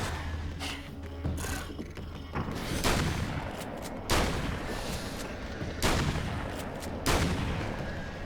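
Gunshots in the game Alan Wake's American Nightmare ring out as a handful of sharp, booming reports spaced a second or so apart, with a low hum and softer mechanical noises between them and no talking.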